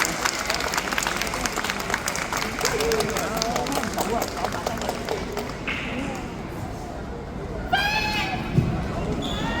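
An audience gives loud, sustained applause as a singer is welcomed on stage at an International Epilepsy Day music carnival. A voice speaks over the clapping, which thins out toward the end.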